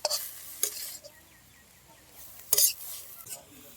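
Tamarind blossom vegetable is stir-fried in a pan, with a faint sizzle beneath a few loud, bursty scrapes and clatters of a spoon against the metal, close up.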